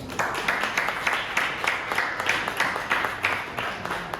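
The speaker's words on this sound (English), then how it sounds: "offer up a round of applause for Julia Walker" Audience applause for Julia Walker at an artist talk, a modest room of clapping with fairly steady, pulsing hand claps and no speech.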